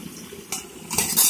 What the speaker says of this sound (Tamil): நல்லா கிண்டி வெட்டி விட்டுருவோம்.